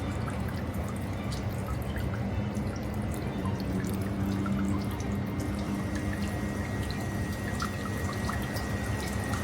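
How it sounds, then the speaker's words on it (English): Water runs steadily from the dragon-statue purification fountain at a Tokyo shrine, a continuous soft splashing with faint drips, heard at a moderate distance and without talk. "Wash your hands and mouth under the watchful eye of the dragon statue."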